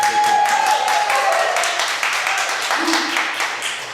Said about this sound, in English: I want y'all to give another round of applause